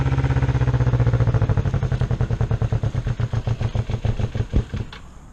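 A Kawasaki EX250 Ninja motorcycle engine runs close by after a carburetor cleaning, starting as a steady high idle and then slowing into a loping, uneven pulse that fades as the revs drop.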